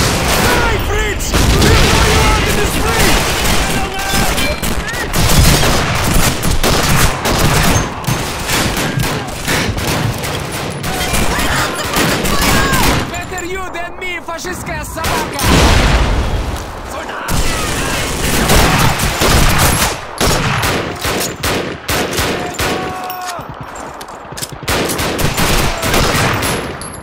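Dense gunfire from rifles and machine guns crackles almost continuously through the battle for Stalingrad in 1943 in the game Call of Duty 2, with booms and shouting voices mixed in and only brief lulls.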